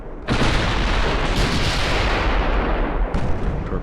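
A torpedo hit in a naval battle in Ultimate Admiral: Dreadnoughts gives a loud, sustained, roaring explosion that fills the space and stays dense for several seconds, with a fresh burst near the end.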